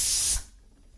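A pressure cooker of dal vents a loud, steady rush of steam through its whistle, then cuts off abruptly, leaving near silence.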